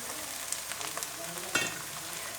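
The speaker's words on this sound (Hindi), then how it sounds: "तो प्याज को हल्का सा फ्राई होने देते हैं।" Chopped onion lightly frying in a pan for a spinach and egg dish, a steady soft sizzle with a few small pops and a brief louder crackle, no voices.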